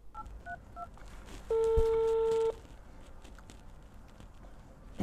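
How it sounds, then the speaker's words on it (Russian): A telephone dials a number to call a property developer's office: a quick series of short keypad beeps, then one sustained tone, quiet and clear against a low background. "Давайте ему позвоним и зададим их по телефону."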